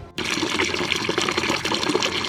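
Water poured out for birds on a rooftop, a steady continuous splashing and trickling stream that starts abruptly and runs loud and close throughout.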